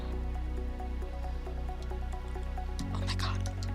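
A player in the Minecraft video game jumps into water, giving soft splashing and dripping sounds over steady game music, with brighter watery splashes near the end.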